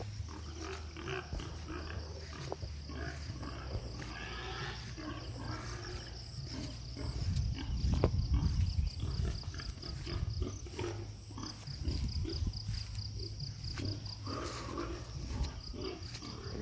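Farm pigs in rural San Andres, Quezon, in the Philippines are being fed. There are rough grunts and squeals over a steady low rumble and insect buzzing, and the noise swells louder around the middle of the clip.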